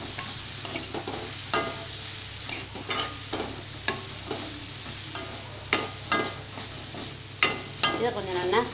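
Chopped apple pieces are sautéed in a pan without oil, with soft sizzling under repeated scraping and stirring strokes at an irregular pace, close and fairly quiet.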